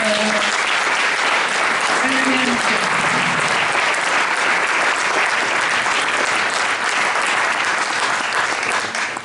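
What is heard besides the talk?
audience applauding the women of the list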